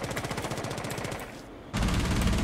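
Shotgun fire in the Rainbow Six Siege video game, a rapid run of repeated gunshot blasts that stops briefly and then resumes as heavier, louder bursts, close and without talk.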